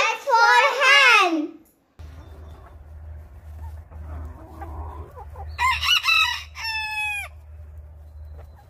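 A hen clucks and a rooster crows in a children's phonics song. The short, clear calls stand out in separate bursts over a low background drone, and a voice sounds at the start.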